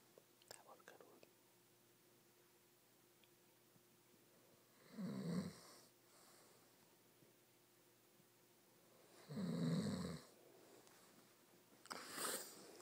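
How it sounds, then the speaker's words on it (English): A man snores in his sleep, with three slow, drawn-out snores spaced several seconds apart. They sound faint and close in a quiet room, and a soft voice murmurs briefly at the start. "you're snoring"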